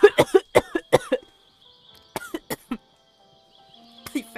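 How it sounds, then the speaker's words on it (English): A series of harsh coughs in quick bursts, then a pause, then a few more coughs and throat clearing, close and fairly loud. "Well, I just got in a really bad coughing fit."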